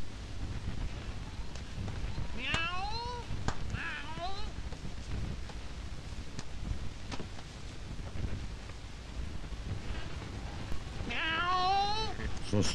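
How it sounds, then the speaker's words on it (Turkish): A cat meows several times in short, wavering calls, separated by gaps, set against a low background rumble with a voice talking nearby in a 1978 Turkish comedy film scene. "Sustur şu kediyi!"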